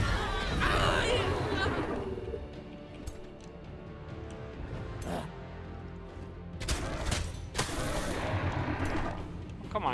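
Archers loose volleys in the fantasy strategy game Age of Wonders 4 during a siege, a dense stream of rapid shots and impacts with battle clamor throughout, under continuous talk.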